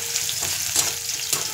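Ghugni ingredients frying in a pan, a steady close sizzle broken by a few brief stirring scrapes and pops at regular intervals.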